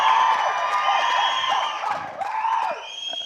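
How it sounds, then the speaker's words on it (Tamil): A live audience at an awards event bursts into loud sustained cheering, whistling and clapping, a dense crowd roar with shrill whistles rising above it. "இந்த கைத்தட்டலும் விசிலும்"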